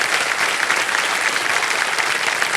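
A studio audience on the Kaun Banega Crorepati quiz show breaks into steady, full applause that holds evenly from start to end, with no talk over it.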